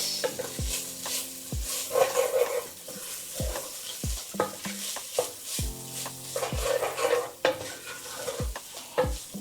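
Fried rice is stirred in a hot pan, a spatula scraping and tapping rhythmically over a steady sizzle of frying, close up with no voices.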